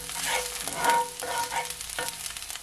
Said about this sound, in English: Just gonna allow it to saute for at least 20 seconds.